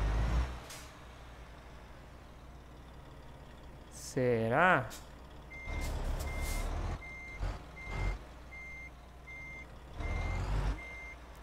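A truck in Euro Truck Simulator 2 manoeuvres on a tight turn, steady repeating reversing beeps sounding alongside engine rumble and a sharp air-brake hiss, while someone talks over it.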